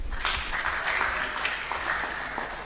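Audience applause for a quiz team at a school quiz competition, steady and fairly close clapping that runs through the short stretch without a break.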